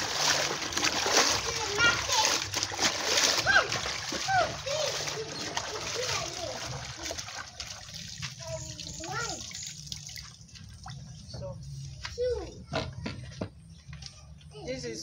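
Medicinal herbs, including cocoyam, being washed by hand in water, with splashing, sloshing and dripping in bursts, close by and under frequent talk from an adult with a voice nearby.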